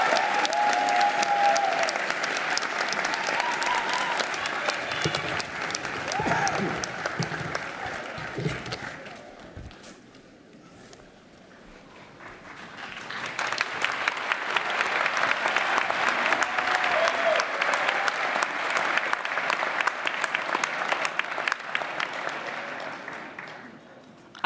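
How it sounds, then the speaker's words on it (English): Graduation ceremony audience claps and cheers loudly and steadily, dips briefly to a quieter lull, then swells again into sustained applause. "I did ask that the last cheer was as loud as the first, and you definitely delivered on that"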